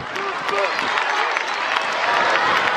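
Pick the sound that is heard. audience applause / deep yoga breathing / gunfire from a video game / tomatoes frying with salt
audience applause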